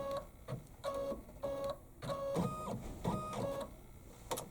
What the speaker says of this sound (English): when it finishes stitching this line only, I'm going to stop my machine